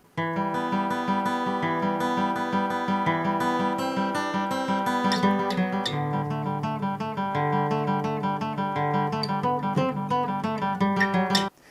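Bright guitar plays a song intro, a continuous melodic passage with ringing chords and picked notes, steady and upfront, looping smoothly without any voices.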